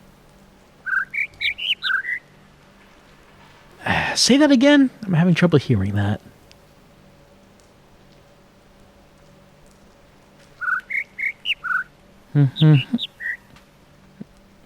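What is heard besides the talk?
bird chirps in video game The Witness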